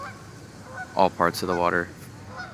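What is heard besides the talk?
geese honking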